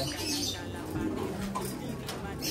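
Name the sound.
pigeons cooing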